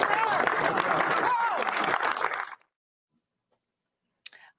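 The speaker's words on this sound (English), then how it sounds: "Resounding applause there" Applause at a live political event, a crowd clapping loudly with cheers and voices mixed in for a couple of seconds before it cuts to near silence, then a brief click.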